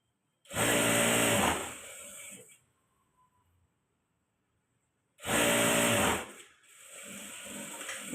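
Sewing machine stitching a blouse seam in two loud, close runs of rapid whirring, separated by a pause of near silence, with light handling sounds after each run.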